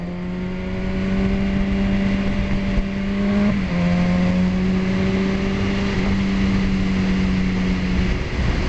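Liter bike motorcycle accelerating to pass a van on the Haleakala road, its engine a steady, close, humming drone that rises in pitch, with one quick shift midway before the tone climbs again.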